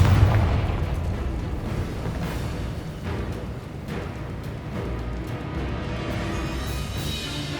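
Combat in Hogwarts Legacy fills the scene with the Confringo fire spell: a loud, continuous rumble of blasts and bursts with a heavier boom at the start.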